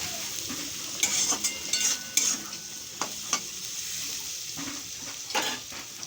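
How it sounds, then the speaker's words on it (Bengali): Spice paste for chow mein fries in a pan with a soft steady sizzle, while a spoon stirs it in several short scraping strokes. No one speaks. "এবার আমি বেশ ভালো মতনভাবে মশলাটা ভেজে নেব।"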